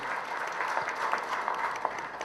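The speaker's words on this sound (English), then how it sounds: "Ladies and gentlemen, let's give him a big round of applause." An audience at a conference event gives a speaker a steady wash of applause, many hands clapping together at moderate volume throughout.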